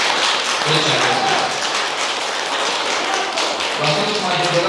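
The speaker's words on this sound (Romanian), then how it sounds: "haideți să aplaudăm fracțiunea platformei la Parlamentul Republicii" Audience applause at a political event in Moldova, a sustained dense wash of clapping from a crowd, steady and fairly loud throughout, with faint voices mixed in.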